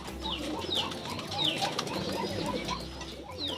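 Pigeons cooing in a racing pigeon loft, a steady low murmur of coos from several birds with faint wing flutters, close and continuous.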